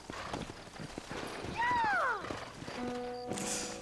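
A horse in the video game Red Dead Redemption clops along on its hooves and lets out one clear whinny partway through, with game voices and other effects sounding around it.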